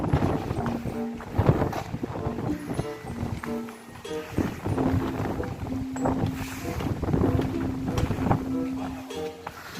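Wind gusts roar against the microphone at the base of a large Buddha statue in a hilltop temple in Thailand, rough and uneven throughout, with tonal sounds and what may be faint voices underneath.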